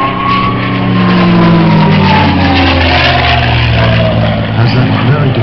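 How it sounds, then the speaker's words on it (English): A P-51 Mustang flies past at an autumn air show at Duxford, a loud, steady engine roar with shifting pitch bands that holds for several seconds, with no talk over it. "P-51 Mustang"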